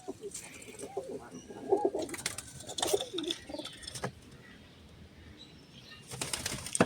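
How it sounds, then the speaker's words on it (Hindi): A large pigeon coos softly in bursts, with sudden flurries of flapping wings nearby, against a faint background, plus a few rustling movements between calls. "ये बड़ा कबूतर है"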